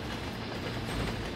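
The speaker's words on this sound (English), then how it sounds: "Long and heavy, freight trains run day and night" A long, heavy freight train rolls steadily along the track, a dense, continuous rumble of wheels and cars with faint clickety-clack, close and loud, no voices.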